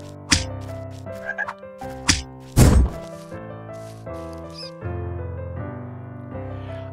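Cartoonish frog croaks and thunks pop over a steady musical backing in the game Valhalla Cats, several short hits spread through the passage.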